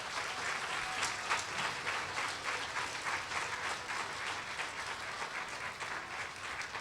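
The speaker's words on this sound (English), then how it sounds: "I want you to give our families a round of applause" An audience of schoolchildren and families applauds veterans' families at a Veterans Day school assembly, with sustained, dense clapping that fills the hall at an even level and no talking.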